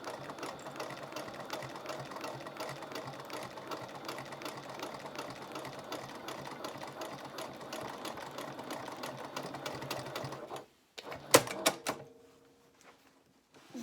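Sewing machine topstitching along the seam of a bag body, a steady fast mechanical whirr with rapid needle ticking running for about ten seconds, then stopping with a few clicks and handling noises.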